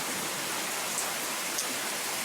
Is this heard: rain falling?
yes